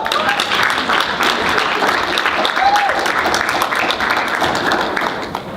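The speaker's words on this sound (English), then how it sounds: "let's give a big round of applause for our last guest" A convention audience of news photographers applauds a guest speaker, a dense, sustained round of clapping that fills the room, with a few faint voices mixed in.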